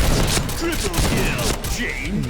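Gunfire in the online shooter Point Blank, a steady dense crackle of shots and impacts filling the whole stretch, loud and continuous with no pauses.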